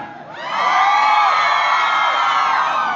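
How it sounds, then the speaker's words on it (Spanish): A concert audience at a fair in Huixcolotla shouts, whoops and cheers for another song, a loud sustained roar of many voices that swells quickly and holds steady. "El público que nos pide una canción más, grita."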